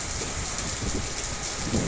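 Heavy rain falling, a dense continuous hiss of drops spread evenly across the full two seconds, loud and steady with no voices.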